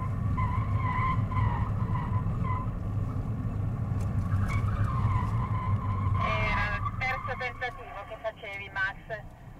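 A BMW skid car sliding with countersteering on a driving course, loud continuous engine rumble and tyre noise for several seconds, then sharper squeals and scuffs as the car grips and slides, no clear talking.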